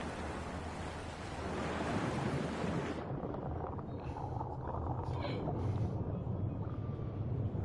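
Steady ocean surf and wave wash in a VR swimming game, a loud continuous roar that turns duller and muffled partway through as the swimmer's head goes under the water.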